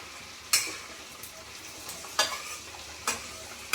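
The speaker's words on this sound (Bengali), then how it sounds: "আমি এখানে ভাজছি, দু জায়গায় সমানভাবে ভাজছি" Malpua fry in a pan of oil with a soft, steady sizzle, broken by three or four sharp scraping strokes as a utensil turns or stirs them.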